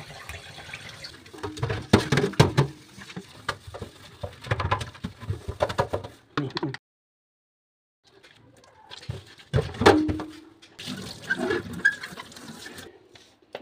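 Tap water runs and splashes in a kitchen sink while fish is washed and the basin cleaned, coming in irregular gushing bursts with clattering handling, a silent gap, then more running water.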